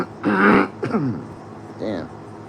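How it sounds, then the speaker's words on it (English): A man clears his throat loudly and close up in two or three rough, harsh bursts, followed by a short vocal sound, in an otherwise quiet indoor setting. "Oh, no, I gotta clear my throat."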